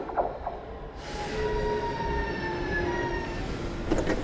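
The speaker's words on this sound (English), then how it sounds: "And here is the train right now." A train pulling into a station, its steady rumble and rolling noise carrying throughout, with high, drawn-out wheel squeals and brake tones across the middle and a short clatter at the end.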